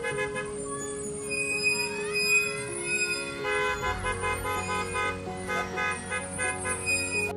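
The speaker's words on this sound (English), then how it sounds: "Just the bus driver honking" A school bus horn toots over steady road and engine noise, a sustained honk layered on traffic, fairly close and loud through most of the stretch.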